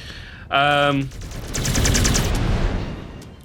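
Mech weapons fire in Mechwarrior 5 Clans: a sharp tonal blast, then a dense burst of rapid gunfire that rolls on for a couple of seconds, loud and close.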